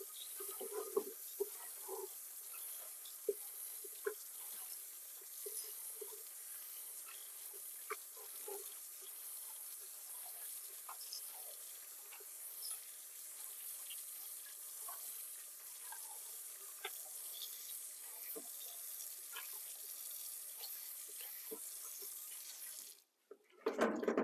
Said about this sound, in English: I'm just going to go over it again with